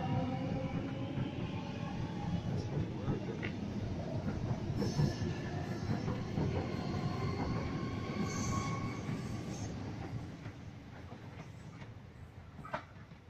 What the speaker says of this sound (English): So this is the train departing.